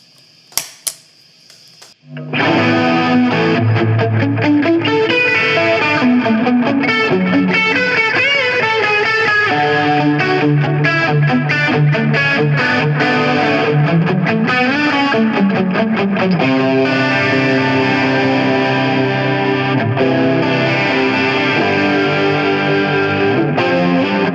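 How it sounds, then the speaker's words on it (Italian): An electric guitar runs through a Gokko MX300 analog pedalboard set to overdrive with chorus: a brief quiet pluck, then loud sustained, shimmering distorted chords and riffs ring out continuously for over twenty seconds. "Ora scendo un attimo con la distorsione, metto in modalità overdrive, ma aggiungo il chorus."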